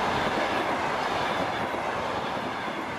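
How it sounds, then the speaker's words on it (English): Train rolling through the sparse Kızılkum desert in southern Uzbekistan, a steady loud rumble of wheels on rails with clickety-clack and faint squeal, continuous and close from inside or beside the carriages. "Now the train is rolling through the sparsely vegetated desert of Kızılkum in southern Uzbekistan"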